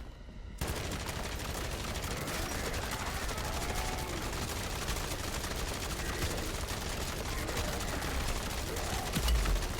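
Dense, continuous rapid gunfire from a heavy weapon in a shooter video game, a sustained loud barrage filling the clip after a brief quieter start.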